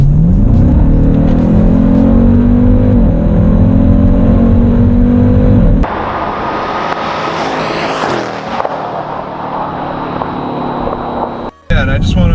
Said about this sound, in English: just how loud the exhaust is and how fast you go, as we shall now experience